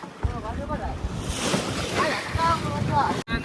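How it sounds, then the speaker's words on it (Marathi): Strong sea waves surge and wash around a fishing boat out on salt water, a continuous loud rush of water and wind noise with broad swells, while someone speaks over it. "बाबा वा खतरनाक लाटा मारतात बघा."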